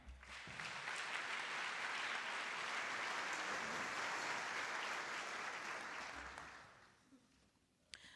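Audience applause at a 2019 university convocation welcoming a student speaker: sustained dense clapping from a large crowd for about six seconds, then fading out to near quiet.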